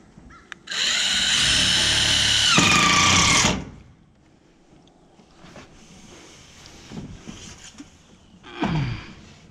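Screw gun driving a screw, a loud steady whine of about three seconds that drops in pitch partway, followed by quieter handling noises and a brief second buzz near the end.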